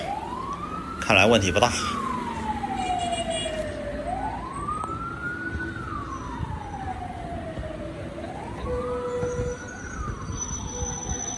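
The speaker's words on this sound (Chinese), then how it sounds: "一辆很小的消防车啊" A small fire engine passes along a busy night street in Henggang, Shenzhen, its siren wailing in slow rising-and-falling sweeps, three cycles over traffic noise, with a brief burst of voices near the start.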